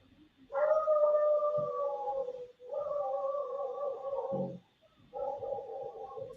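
A dog howls in three long, wavering drawn-out notes separated by short pauses, loud and fairly close, with no talking over it.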